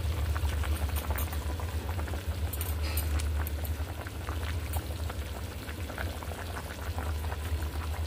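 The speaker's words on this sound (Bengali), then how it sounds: "দেখুন বন্ধুরা মাছের ঝোলটা ফুটে উঠেছে, আলুও গলে গেছে।" Fish curry with potatoes bubbling steadily in a pot, a continuous low simmering rumble with scattered pops and small splashes, close and even throughout, no talking.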